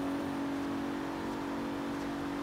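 A car in the Forza Horizon 3 racing game accelerates with a steady, fairly faint engine drone that holds an even pitch without a break.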